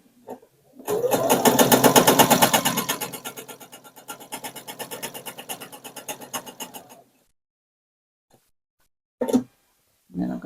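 A sewing machine fitted with a walking foot quilts fabric close to its edge in a steady rapid run of stitches for several seconds, then stops, followed by a few brief handling clicks.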